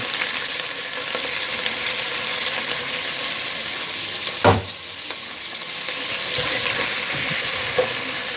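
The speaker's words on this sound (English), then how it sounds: "add a little bit more butter to the pot. Ooh. Add in our onion" Onion sizzles steadily in melted butter in a pot, a dense, close frying hiss that runs throughout, broken once by a brief clatter partway through.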